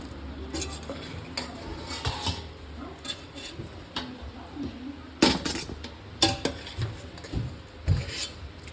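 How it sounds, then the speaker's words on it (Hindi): Boiled, softened potatoes are lifted out of a pot in a home kitchen, with clinks and scrapes of utensils against metal and occasional louder knocks over a soft steady background. "तो आलू जो हमारे वो उबल चुके हैं, गल चुके हैं। अब मैं इनको निकाल रही हूँ।"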